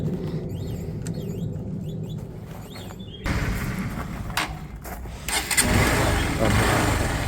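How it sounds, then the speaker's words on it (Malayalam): A 2017 Honda Unicorn motorcycle engine is started, a quieter stretch giving way to the engine catching and running at a steady mid-pitched idle with a slight rise toward the end, close by and with no speech. "ഇനി ജസ്റ്റ് ഞാനൊന്ന് സ്റ്റാർട്ടാക്കി കാണിച്ചു തരാം"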